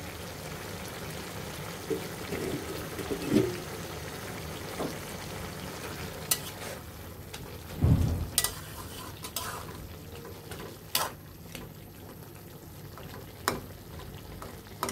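Small river fish chorchori with potatoes simmering in a pot, a soft, steady bubbling and low hiss with a few faint clinks and one brief thump, all at a gentle, quiet level.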